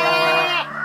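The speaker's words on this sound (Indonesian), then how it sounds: "Buruh ngerawat ngerawat kambing punya orang." A goat kept on a village farm lets out a single close, loud, wavering bleat that lasts under a second.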